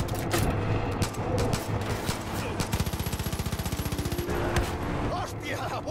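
Rapid automatic gunfire in the video game Far Cry 5, a fast even burst of shots in the middle after scattered single shots, all loud amid dense game noise with voices talking over it.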